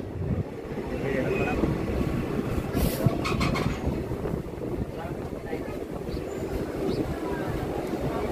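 A passenger train rolls into Garji railway station in Udaipur, Tripura, a steady low rumble and rattle of wheels and carriages heard from onboard, with faint metallic squeals and wind noise.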